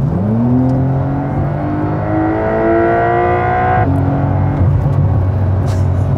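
A 480-horsepower Porsche fitted with an Akrapovic exhaust revs loudly close by, the engine note climbing steadily before dropping back sharply and settling into a deep, steady rumble.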